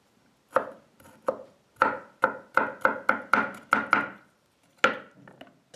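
A knife chops translucent aloe vera gel on a board in crisp, woody strikes, a few spaced cuts then a quick even run of about eight, close and clear with no speech.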